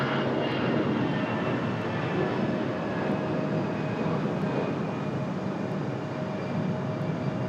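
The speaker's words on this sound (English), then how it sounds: "Yes, you can still hear the CRJ" A CRJ regional jet departing far down the runway at Raleigh Durham International gives a steady, distant engine roar that holds evenly throughout with no voices.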